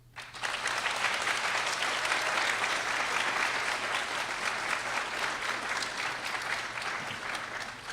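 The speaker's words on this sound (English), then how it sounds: "Please thank them and acknowledge them with your applause" An audience at a university honors cording ceremony applauds in a steady, dense wave. The clapping starts quickly, holds evenly loud for several seconds, then eases slightly toward the end.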